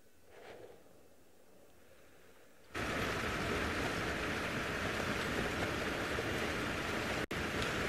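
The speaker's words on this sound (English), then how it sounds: "it's raining quite hard and these Mara roads become quite slippery" Heavy rain hammers on a safari vehicle in the Mara, bursting in after a quiet start and then pouring steadily and loudly with a brief cutout near the end.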